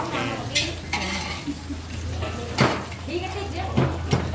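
Eggs frying in a pan at a temple merit-making festival kitchen, a steady sizzle under clinks of utensils and stirring scrapes, with voices talking nearby.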